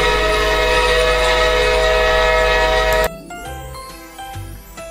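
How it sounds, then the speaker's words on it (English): Steady loud train noise with a ringing, siren-like horn tone holds for about three seconds, then cuts off sharply into fainter tinkling bell-like tones and scattered clatter. "Do you hear the sound of a train?"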